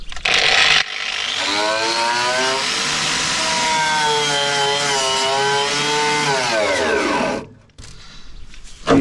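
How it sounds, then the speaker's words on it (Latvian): An angle grinder cuts metal during a Volvo 740 renovation, a loud continuous high whine with shifting pitch lasting about seven seconds before dropping away, then starting again briefly. "te būs īsts fleksējiens"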